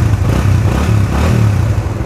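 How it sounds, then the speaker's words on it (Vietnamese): Honda Winner X motorcycle with ABS, HRC edition, about 12,000 km on it, idling steadily close up with a continuous low, even engine rumble throughout. "nổ máy cái cho anh em nghe nè."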